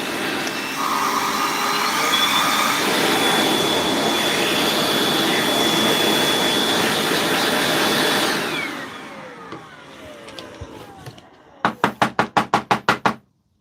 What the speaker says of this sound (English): this flex vacuum actually picks up heavier pieces of wire